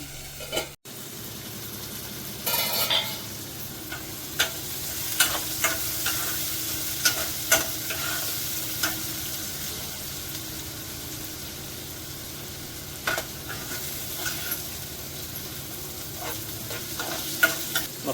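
Onions cook in a pan for an octopus curry, a continuous soft sizzle with scattered clinks and scrapes of stirring throughout, no one talking.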